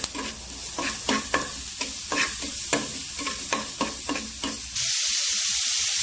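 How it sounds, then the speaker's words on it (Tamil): Ginger garlic paste stirred and sautéed in hot oil for an egg dish, with a steady sizzle and repeated scraping strokes of the spoon, close and loud. The frying then settles into a continuous hiss. "அதுவும் நல்லா எண்ணெயில் வதங்குற மாதிரி நல்லா வதக்கி விட்டுக்கலாம்."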